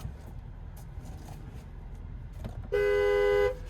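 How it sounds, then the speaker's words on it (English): A 2026 Chevrolet Silverado 2500HD Custom Z71 pickup gives one steady horn blast close by, lasting under a second after a quiet cabin murmur. "There's the horn."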